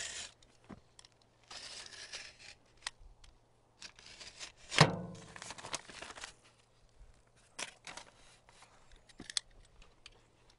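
Plastic film peeled and pulled off an aircrete test sample, giving scattered crinkling, rubbing and tearing noises with one louder rip near the middle, close and fairly quiet, with no talk.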